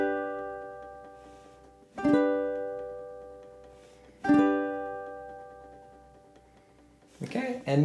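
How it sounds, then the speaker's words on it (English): Ukulele plucked in slow half notes with a subtle, gentle vibrato. Each note rings out and fades slowly before the next one, with a final, busier pluck near the end. The playing is fairly quiet and close. "a little up and down, subtle. Keep pressure held down"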